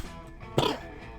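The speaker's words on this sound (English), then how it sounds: "that was me coughing on her bullshit" A single short throat-clearing cough from a voice actor, close and brief, with faint background sound around it.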